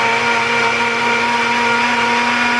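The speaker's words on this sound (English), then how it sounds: "That was a blender." Countertop blender running steadily as it mixes a peanut butter shake, a loud, continuous motor whir with no break and no talking.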